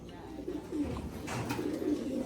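Racing pigeons coo in a loft, with soft low throaty coos repeating close by alongside faint rustling and a little background noise.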